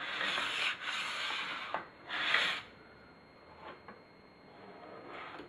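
A plastic scraper drags across waxed skis or a snowboard in raspy back-and-forth strokes, two strong scrapes followed by lighter, quieter passes, close and alone.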